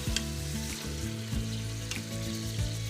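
Meat browns in an Instant Pot during meal prep. A loud, close, continuous sizzle runs throughout over a low steady hum, with no voices.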